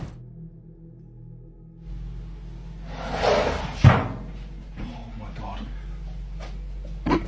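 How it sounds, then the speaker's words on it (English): Kitchen drawers and cabinets bang on their own at night: a few hard slams and thuds land irregularly after a quiet start, the loudest near the middle and one more at the end, over a low background hum. "at night, the kitchen turns into a mess, with the drawers and cabinets going crazy on their own."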